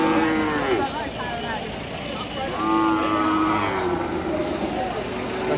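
Cattle at a crowded market, including border-crossed cows, moo in several long drawn-out calls, some near and some farther off, over a busy background murmur of the market.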